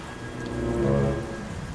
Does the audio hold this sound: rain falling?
yes